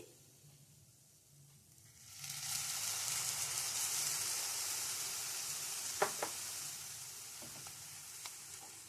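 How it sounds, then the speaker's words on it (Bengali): Coconut laddu mixture blended with orange pulp is stirred in a hot pan, a steady close sizzle that rises after a quiet start, broken by a few sharp spoon scrapes and taps. "এবার কিন্তু আরেকটু নেড়ে চেড়ে ভালো করে মিশিয়ে নেবো"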